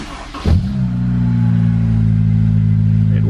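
A Honda S2000 engine catches on a cold morning start with a sharp burst, then settles into a steady, loud, even idle that carries on alone.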